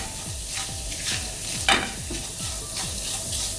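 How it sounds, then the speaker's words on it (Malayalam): Mustard seeds and urad dal fry in hot oil with a steady, close sizzle, broken by one sharp crackle midway. "മാവ് റെസ്റ്റ് ചെയ്യാൻ വെച്ച സമയത്ത് നമുക്ക് കടുകൊക്കെ ഒന്ന് വറുത്തെടുക്കാം"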